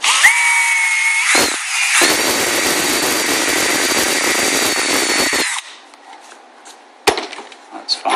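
A power drill whines loudly and steadily for several seconds, bites and grinds through a Kydex cheek rest on a Hogue rifle stock, then stops, followed by quieter clicks and handling noise.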